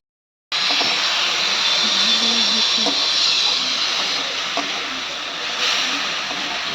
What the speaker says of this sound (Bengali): তো মা এদিকে বাটা মাছগুলো ভেজে নিল